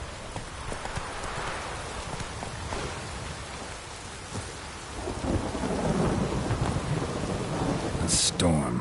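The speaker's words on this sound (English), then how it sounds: "A storm, damn it." Thunderstorm in Witcher 3: Blood and Wine: steady rain hiss with low thunder rumbles, and hoofbeats clopping nearby. The storm swells louder midway, and a sharp bright crack comes near the end.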